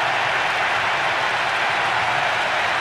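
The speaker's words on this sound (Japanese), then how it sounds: "スタジアム中が大歓声で揺れています。" A dense, steady roar of a large stadium crowd cheering a goal in a Real Madrid versus Liverpool football match, loud and continuous throughout with no gaps.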